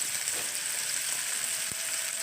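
Green chillies frying in a kadai with coconut pieces for chutney, a soft continuous sizzle with a steady hiss and one brief knock of a utensil near the end.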